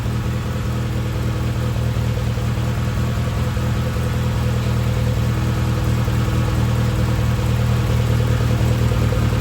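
A rebuilt 1962 Triumph TR4 engine with Weber carburettors runs at a steady idle, close and continuous, with an even low drone and no talk.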